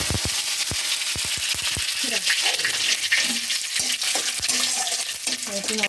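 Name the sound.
curry leaves frying in oil with cardamom and cloves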